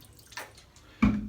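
Two quick splashes of Thea's lemon witch hazel slapped onto a freshly shaved head, a light wet pat followed by a louder, fuller splash close by.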